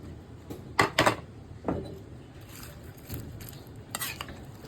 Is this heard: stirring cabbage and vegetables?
yes